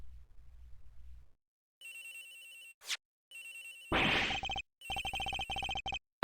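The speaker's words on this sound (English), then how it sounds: "Agent Hicks's phone is ringing from somewhere" Phone ringing in the video game Ace Attorney Investigations: Miles Edgeworth, a repeated electronic ringtone in short bursts, broken up by a sharp swoosh and a crash-like game effect.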